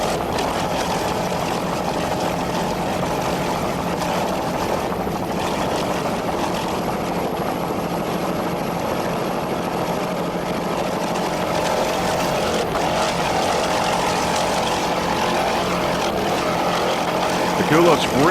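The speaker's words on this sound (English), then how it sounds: "powered by one 600-horsepower Mercury inboard with a Black Hawk drive" A 26-foot Scarab racing powerboat with a single 600-horsepower Mercury inboard and Black Hawk drive roars in a steady, loud engine drone at an offshore race, with an announcer talking continuously over it.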